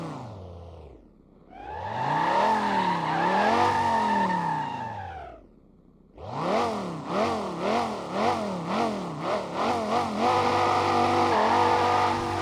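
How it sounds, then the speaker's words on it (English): A Dodge Viper V10 in the racing game Apex Racer revs loudly, two sustained rising-and-falling engine sweeps, then a stretch of rapid blips through the gears, sounding close and alone. "Let us listen to its V10."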